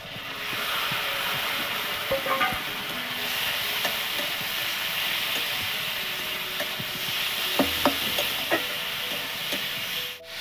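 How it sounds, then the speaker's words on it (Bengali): Ginger goes into a pan of lightly fried onion and garlic, making a steady close sizzle and hiss under the clatter of stirring, with a few sharper scrapes and taps near the end. "পেঁয়াজটা রসুনটা হালকা ভেজে নিয়েছি, এবার এর মধ্যে আদাটা দিয়ে দিচ্ছি।"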